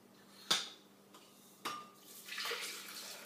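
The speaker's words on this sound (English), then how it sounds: "we're going to take our coffee and we're going to pour it right into the blender." Brewed coffee is poured into a glass blender: two sharp clinks of glass are followed by a swelling splash of liquid, close and fairly quiet, with no talking.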